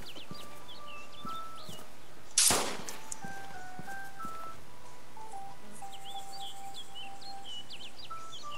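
A single sharp gunshot in the video game DayZ cracks out loudly once amid steady background ambience with chirping birds before and after.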